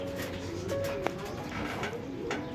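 Young racing pigeons cooing softly at a loft against a steady outdoor background hum, faint repeated calls with one brief sharp click partway through.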